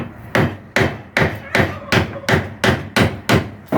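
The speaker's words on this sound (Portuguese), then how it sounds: "Aí aqui a gente vai usar simplesmente um formão e um martelo." Hammer striking a wood chisel in a steady series of about nine sharp, close knocks at even intervals while cutting a wooden instrument.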